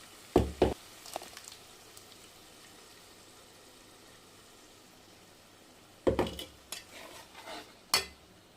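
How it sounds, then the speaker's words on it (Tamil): Ground masala stirred in a pan for spicy mutton gravy, sharp spoon-on-pan scrapes and clinks in bursts near the start and end, with a quiet low sizzle between. "இப்போ நம்ம அரைச்சி வச்ச மசாலையும் இதில் போட்டுடலாம்"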